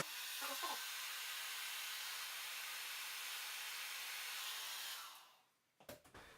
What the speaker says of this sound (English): turn on your hairdryer and place the back on it